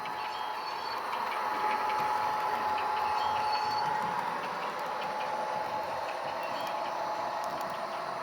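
An HO scale model train runs steadily, a continuous mechanical whir with light clicking of wheels over track, close by and even in volume.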